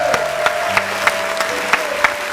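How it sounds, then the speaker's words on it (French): Light applause from a small audience at a French show, steady patter with a few sharper claps, under a faint sustained tone. "On applaudit pour papa s'il vous plaît."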